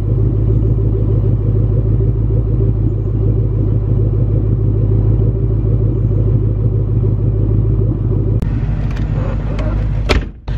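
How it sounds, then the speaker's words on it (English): Deep, steady exhaust rumble from a 2003 Mustang Cobra, loud and continuous while the car drives, ending with a brief sharper burst near the end. "listen to the exhaust"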